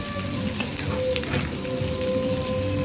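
Chopped onions sizzle steadily in a hot pan for chilli chicken, a dense, even crackle close by with faint occasional stirring and no talk.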